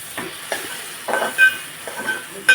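A tomato and capsicum curry with eggs is stirred in a pan, with a faint sizzle broken by several short spatula scrapes and taps against the metal, close but quiet.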